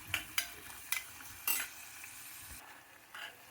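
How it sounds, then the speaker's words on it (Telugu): Sliced onions sizzle softly in hot oil for an aloo methi dish, a faint steady fry broken by several sharp clinks and scrapes of a stirring spoon against the pan. "ఆయిల్ వేడెక్కాక ఉల్లిపాయలు వేసుకోవాలి. ఇవి వేగనివ్వాలి."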